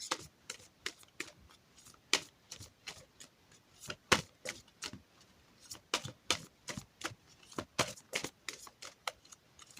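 Oracle cards from a tree and Ogham deck being shuffled by hand, a long run of quick, crisp riffling flicks in an uneven rhythm, close and fairly soft, with no voices.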